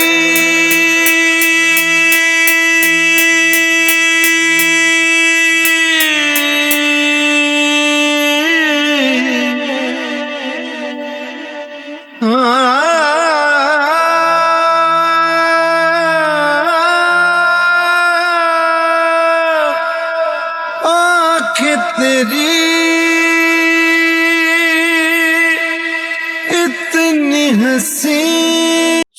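Second drop of a drum and bass remix: loud, dense electronic music with sustained stretched vocal-like tones and bright layered synths, a brief dip midway, then the full mix returning, no speech.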